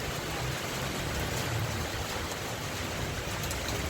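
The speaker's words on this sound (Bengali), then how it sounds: "এই যে ছাদে বসে দুইজন আপনাদের ভাই আর আমি বৃষ্টি উপভোগ করছি" Rain pouring onto a rooftop terrace, a dense, even hiss of falling water that holds at steady loudness throughout, with no talking heard.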